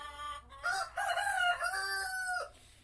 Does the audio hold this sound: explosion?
no